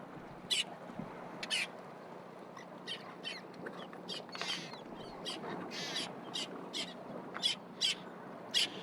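A young bird on rocks gives a series of short, sharp calls at a fairly regular pace, faint and close, over a soft steady background hiss.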